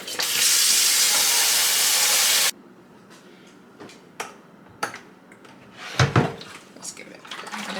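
Warm tap water runs hard into a container while cleaning humidifier parts, a loud steady rush for a couple of seconds that stops abruptly, followed by quieter knocks and clatters of handling.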